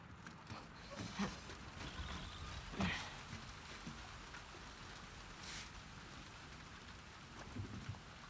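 Steady rain pours in The Last of Us Part II, a dense continuous hiss of drops on surfaces with a couple of soft rumbling swells like distant thunder, no voices over it.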